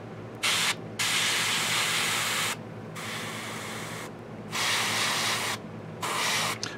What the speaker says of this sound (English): Showing off some airbrush.